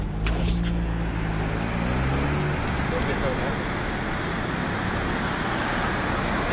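Steady road traffic on a flooded highway route near Chihuahua, Mexico, a continuous broadband wash of car noise with a passing engine drone early on, loud and close throughout.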